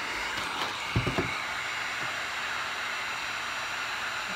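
A heat tool blowing steadily over epoxy resin art, a continuous airy whoosh held at an even level from start to finish, with a few brief knocks and clicks near the beginning.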